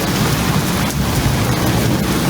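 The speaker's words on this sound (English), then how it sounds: "But this is an unusual storm right now." A heavy rainstorm with thunder drums loudly and continuously close by in a backyard setting, a dense, unbroken wash of rain over a low rumbling undertone.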